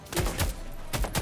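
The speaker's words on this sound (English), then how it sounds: "I kind of like this gun. It feels pretty good to fire, at least." Gunfire in The Expanse: Osiris Reborn, a sci-fi shooter video game, with several heavy rapid shots in a short burst, loud and close, with no voices over them.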